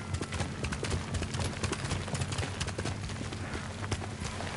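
A horse ridden in Ghost of Tsushima gallops with quick, rhythmic hoofbeats that stay steady and fairly close throughout.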